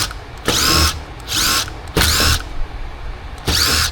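Power driver backing screws out of the carburetor top plate on a 40-year-old Mercury 150 hp Black Max outboard, four short whirring bursts in a steady rhythm with brief pauses between, close and loud.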